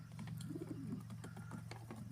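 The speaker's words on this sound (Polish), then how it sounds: "Są to fajne gołębie z mojej hodowli" Pigeons from a breeding loft coo softly, with low repeated throaty calls over a faint steady background hum, heard alone without talk.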